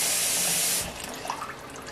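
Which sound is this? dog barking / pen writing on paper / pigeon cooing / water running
water running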